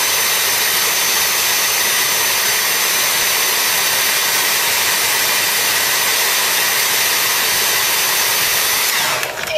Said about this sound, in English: I'll use a hairdryer and heat up that shit